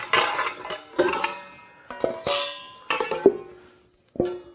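GABBAY mixing bowls clinking together as they are lifted out of a stack, several sharp metallic clinks and ringing knocks in a quiet kitchen, close and fairly soft.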